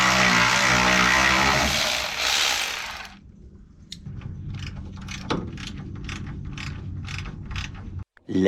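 A hand wrench ratcheting on motor mount nuts during a car engine swap, first a loud dense rattle of rapid clicks, then quieter, evenly spaced ratchet clicks after a pause.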